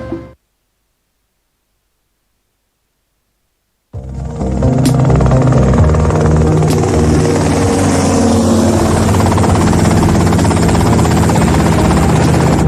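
Helicopter in GTA: Vice City, starting after a few seconds of near silence, then a loud, steady rotor and engine roar that holds for the rest of the clip, with no voices.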